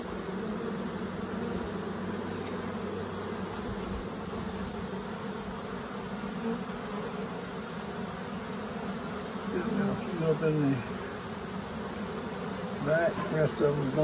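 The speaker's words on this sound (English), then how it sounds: "lot of bees in that swarm" Large honeybee swarm gathered on a tree outdoors, a steady dense buzzing drone throughout, with a voice speaking faintly beneath it toward the end.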